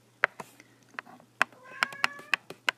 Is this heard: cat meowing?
yes